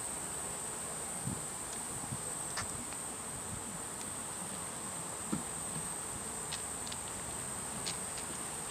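Honey bees swarm around an open hive during a queen exchange, giving a steady, close buzzing drone with faint scattered clicks and knocks throughout; no voices.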